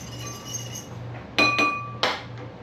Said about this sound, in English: I guess I could have picked a bowl that wasn't so noisy, but just want to whisk that up real good.